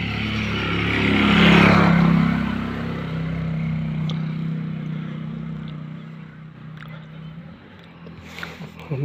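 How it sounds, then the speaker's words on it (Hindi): Outdoors, a motorcycle passes by with a loud engine roar that swells to a peak and then fades into the distance. Faint background noise and occasional clicks follow. "बाइक गया अभी, देखो कितना शानदार बाइक।"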